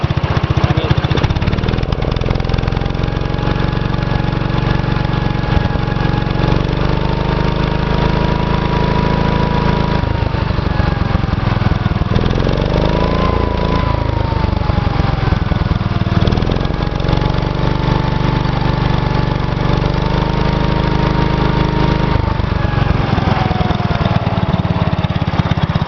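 A Gravely 810 tractor's Kohler cast-iron engine idles steadily and loudly up close, a constant low rumble with a slight knock, shifting in pitch briefly midway and running on alone without speech.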